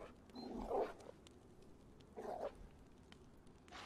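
Dogs in the survival video game DayZ give two short bursts of barking or yelping, faint and somewhat distant, over quiet ambient game noise.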